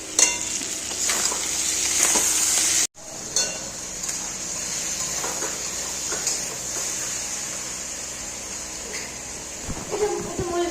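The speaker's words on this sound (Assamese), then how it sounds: "মই মছলা দি বনাম এইটো মছলাটো ভাজি আছোঁ এতিয়া।" Spices sizzle steadily in a hot pan for a fish dish, a constant hissing fry close up that runs throughout, with a brief cutout early on and a few scraping stirs.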